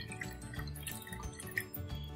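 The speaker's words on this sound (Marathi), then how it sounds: "आणि मग हे असे धुवून घ्यायची ही डाळ" Quiet water sloshing and dripping as moong lentils are swirled and rinsed in a bowl to remove husks, with soft splashes and a small clink.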